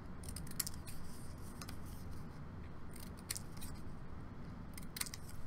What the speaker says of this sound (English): I'm going to cut off the corners